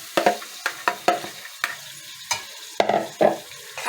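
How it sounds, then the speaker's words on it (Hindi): Blended spinach is stirred into a fried, sizzling masala, with a series of sharp scraping stirs over a steady sizzle, close and clear, about nine strokes in under four seconds. "अब इसके अंदर ये जो ब्लेंड की हुई पालक है वो अब हम इसके अंदर शामिल कर देंगे।"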